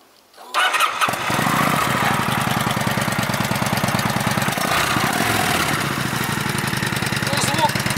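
A Kawasaki Vulcan VN900 motorcycle engine cranks briefly, then fires up into a loud, steady, rumbling idle with a regular throbbing pulse that continues to the end.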